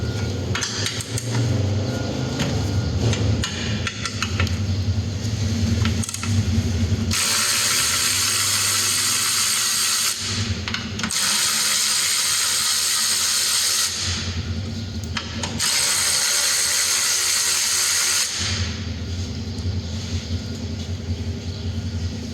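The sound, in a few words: ratchet removing 13 mm bolt and nuts, Nissan Qashqai fuel filter cage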